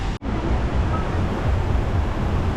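A muddy brown river rushing near a waterfall in Bali, giving a loud, constant roar of churning water close by with no voices over it.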